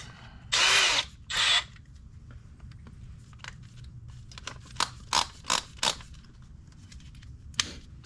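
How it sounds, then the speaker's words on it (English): A power drill tightening motorcycle air cleaner bolts for a Screaming Eagle Ventilator Extreme air cleaner install, with two short, close whirring bursts followed by several quick metallic clicks and ratcheting taps. "let's just tighten up real quick here with the drill, but not tight"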